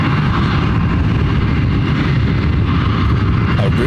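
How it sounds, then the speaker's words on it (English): A Boeing 757 jet taxiing at Ontario International Airport in California, a steady, loud engine roar and rumble with no breaks throughout. "we've got that 757 that should be starting to taxi"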